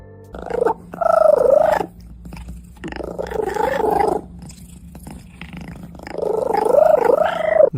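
A cat purring, close by, in rumbling bursts that swell and fade with pauses between, the low throaty rattle interrupted by short quiet gaps, with no talking over it.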